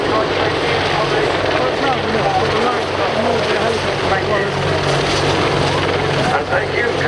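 An attack helicopter at the 2015 Cosford air show display roars close and loud, its rotor chopping steadily throughout without a break.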